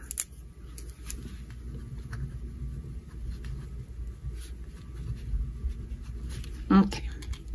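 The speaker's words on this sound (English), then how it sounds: "Let me write that down." A pen scratches faintly as notes are written down by hand at a desk, short soft strokes mostly beneath a person speaking, with a sharper tap near the end.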